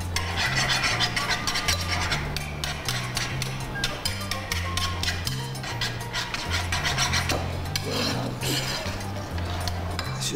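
A whisk stirs a seasoning mixture in a bowl during home cooking, making a steady scraping, rasping swish with light metallic clinks, continuous and close over a low repeating musical bed.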